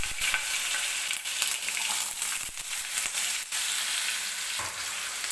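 Finely chopped potato hits hot oil in a kadhai with a loud, dense crackling sizzle. It runs steadily, with scraping stirs and spatters now and then.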